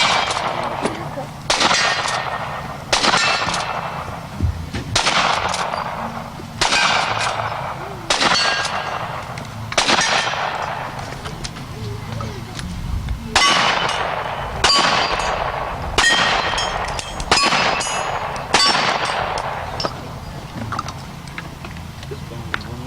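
Pistol shots ring out at a shooting stage, each sharp crack followed by the clang of steel targets, in quick rhythmic bursts and repeated strings, with brief voices in between.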